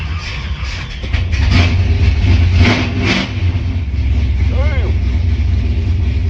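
A 1970 big-block Chevelle engine cranks and fires, then settles into a loud, deep rumble with a few throttle blips, close by and mostly alone.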